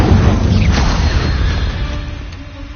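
Incendio, a fire spell cast in Hogwarts Legacy, erupts as a loud low boom and crackling burst that fills the whole moment, then rumbles and fades slightly.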